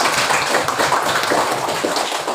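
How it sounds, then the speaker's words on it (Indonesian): Classmates applaud a student in a classroom, a steady wash of clapping hands with no pause and no voices over it. "Tepuk tangan dong buat Ferry Kakak"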